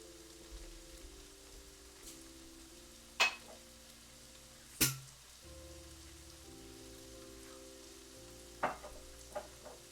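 Sauce caramelizing in a frying pan, a soft patter of crackles and sizzle with a few louder sharp clacks of utensils against the pan, fairly quiet overall.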